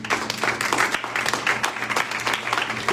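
Applause from a church congregation, a dense continuous wash of many hands clapping at steady loudness throughout, with a low hum underneath and no clear talk over it.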